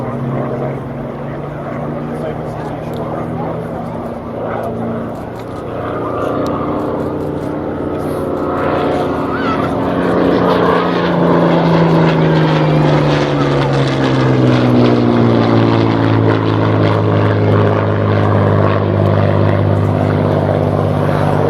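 Propeller aircraft PZ-865 flying past at an airshow, a loud droning engine that swells and shifts pitch as it passes, with a commentator's voice over the noise.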